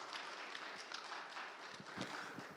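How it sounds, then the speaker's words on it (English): Faint, distant applause from a conference audience at a Korea–Caribbean high-level forum, a steady wash of scattered clapping that holds evenly throughout without voices. "Welcome her with a big round of applause"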